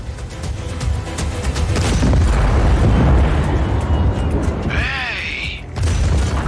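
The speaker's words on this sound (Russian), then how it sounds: "взрывы и стрельба, они нервируют" Explosions from the Just Cause 4 train robbery mission rumble as a heavy, sustained boom swelling and fading, followed by a brief high whining sweep and a renewed low roar; no speech over it.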